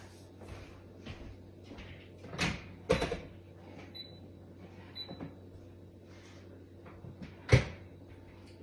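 Scattered clunks and thumps of an air fryer door being opened and shut, with a sharper bang near the end and faint kitchen shuffling between.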